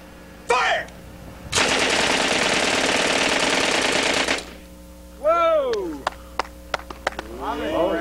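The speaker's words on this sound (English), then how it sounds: "We had a great time out shooting machine guns." Machine gun fire at an outdoor shooting range, a long sustained burst of rapid shots after a short earlier volley, with voices and shouts between and after the firing and a few sharp single cracks near the end.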